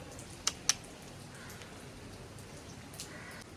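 Light rain falls outdoors on a rainy day as a steady, soft patter. A couple of sharp drips tick close by near the start.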